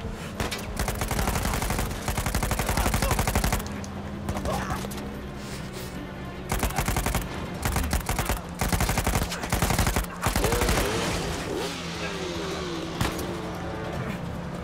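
Gunfire in the video game Uncharted 4, rapid bursts of shots in repeated clusters over game sounds, with a voice talking in between.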